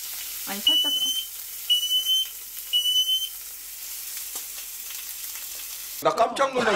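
Three short, shrill electronic beeps from an Aqara smoke alarm, evenly spaced against a faint hiss, followed by a brief voice at the end.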